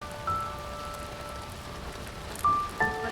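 Morning rain falling steadily outdoors, a soft continuous patter heard alone, with a few faint tonal sounds over it.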